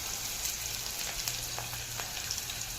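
Finely chopped onion frying with cumin, mustard seeds and curry leaves for potato and pea curry, a steady, fairly faint hiss of sizzling oil with a low hum underneath, no voices.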